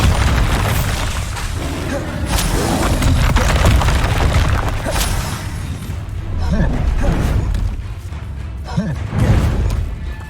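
Booming blasts from the Bombarda blasting spell in Hogwarts Legacy, loud crashing explosions and rumble layered over continuous combat noise with a voice speaking underneath.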